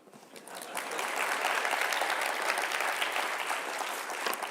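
A conference audience applauding during a party leader's keynote speech, a broad, steady wash of clapping that swells quickly and holds evenly throughout.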